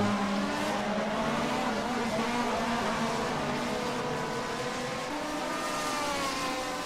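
Race cars at the Norisring in a sim racing game, a sustained engine drone with shifting pitch as cars run down the front straight, loud and continuous.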